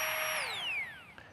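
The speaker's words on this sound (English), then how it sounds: "the cool thing about this little gadget is USB rechargeable, and it will inflate your mattress in maybe 2 minutes" A small USB rechargeable electric air pump whirs steadily at close range, then its pitch glides downward as it slows and winds down near the end, running alone without voices.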